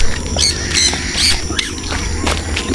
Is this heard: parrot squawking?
yes